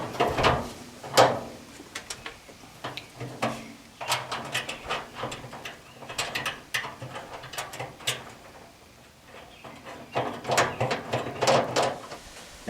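A screwdriver turns screws into an MGB trunk latch assembly, making irregular close clicks, scrapes and ratcheting ticks in uneven bursts, with no talking.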